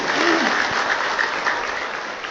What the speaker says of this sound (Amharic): አጨብጭቡና ገለጹ።